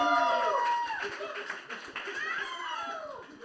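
Audience at a live literary and digital-writing event cheers and claps, a dense wash of applause with scattered whoops and laughter that stays loud throughout, then eases slightly toward the end.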